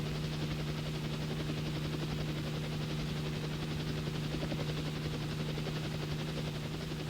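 Army research helicopter in flight, a continuous loud rotor drone with a steady low hum and fast chopping pulse, unbroken throughout and with no voices.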